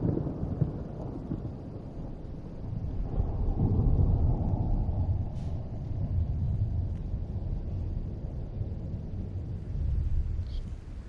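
The Sunbeam ship explodes in the video game Subnautica as a deep, sustained rumble with a swelling roar around the middle, fairly quiet and with no voices over it.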